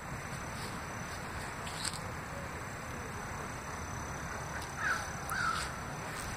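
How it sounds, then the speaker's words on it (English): An unusual bird calls near an abandoned train bridge, giving a few brief, fairly faint caw-like cries over a steady background hiss, with a couple of distinct calls late on and no talking. "It's a weird ass sounding bird, bro."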